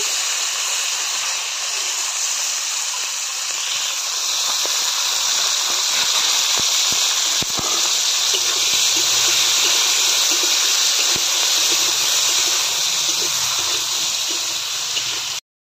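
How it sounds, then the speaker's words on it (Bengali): Green beans fry in the hot oil left over from frying eggs, giving a steady, loud, broad hiss that continues without a break throughout. "ডিমের তেলে এবার বিনসগুলো দিয়ে দিলাম ভাজার জন্য।"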